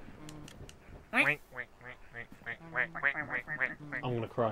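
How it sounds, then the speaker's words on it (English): Cartoonish duck quacking from the Luigi's Mansion video game, a rapid run of nasal quacks repeating steadily over several seconds, with people talking and laughing over it. "We just turned into the duck"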